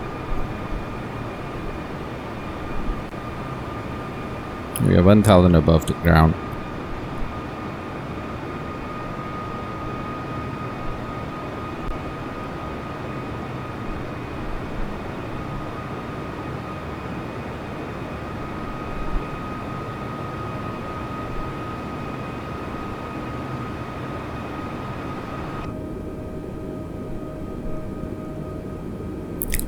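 Airbus A320 engines on an ILS approach in a flight simulator give a steady, even drone with faint tonal whines, broken early by a brief loud synthetic altitude callout, then thinning toward the end.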